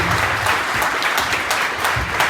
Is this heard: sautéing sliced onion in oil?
no